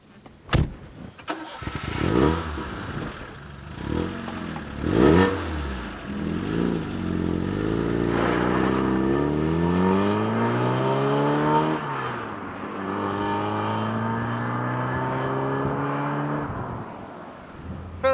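A Volume X car engine starts with a sharp crank, then revs and pulls through rising, sweeping gear changes while being driven, loud and close throughout with no talk.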